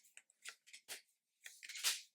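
An out-of-print tarot card deck being shuffled by hand, with several quick riffling bursts separated by short pauses, close up and fairly quiet.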